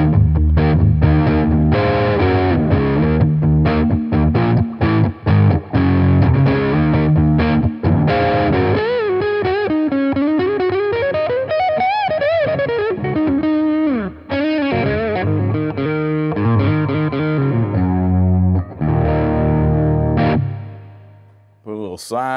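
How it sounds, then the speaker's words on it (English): A Gibson Les Paul played through a Boss Katana amp with cranked distortion rings out in thick, sustained chords and a bending lead line, loud and continuous with no talk over it. "this is definitely going to give you that classic Les Paul cranked sound that we all love."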